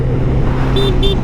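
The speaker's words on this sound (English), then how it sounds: "Horn." Two short, bright horn beeps from a 2024 Suzuki GSX-S1000 motorcycle, heard over a steady low engine and wind rumble while riding.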